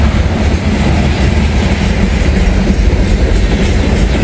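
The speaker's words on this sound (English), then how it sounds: "wow, that's a short train." A short freight train rolls past in open farm country, producing a loud, steady rumble with rhythmic clickety-clack from the wheels on the rails and no talking.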